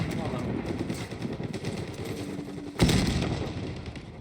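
Gunfire in Call of Duty Black Ops 6 multiplayer runs as a dense, rattling burst of rapid shots. A voice talks over it, and a sharper, louder report cuts in near the end.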